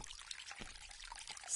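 Water pours and trickles steadily outdoors, a soft continuous splashing that stays at an even level with a slight swell at the very end.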